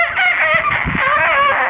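A person imitates a rooster crowing, a loud, drawn-out strained cock-a-doodle-doo call delivered close up with no other sounds.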